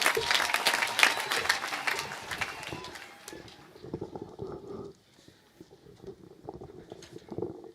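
A crowd at a senator's funeral gathering in Nyandarua claps loudly at first, then the applause thins to scattered, patchy claps and fades, with distant voices and crowd noise underneath.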